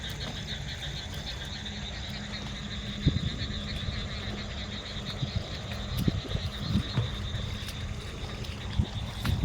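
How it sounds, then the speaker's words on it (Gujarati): Frogs croak in a steady, pulsing chorus outdoors, layered calls at varied distances with occasional louder splashes or knocks nearby. "વધારે પડતો ને ડેટકાનો જ અવાજ આવે છે"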